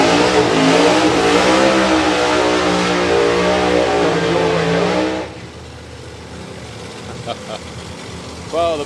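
A drag racing car does a burnout at a live event, its engine roaring loud and steady at high revs for about five seconds before dropping away abruptly, with a commentator talking over it.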